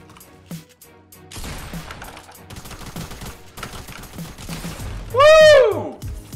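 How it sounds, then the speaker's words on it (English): Rapid bursts of gunfire in the Fortnite video game, a clustered series of sharp shots mixed with game effects and a rising whine near the end. "Is this guy really shooting on my ship from under?"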